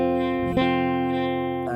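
A guitar strumming an F bar chord: one full strum rings out and sustains steadily, clear and close, with no talking.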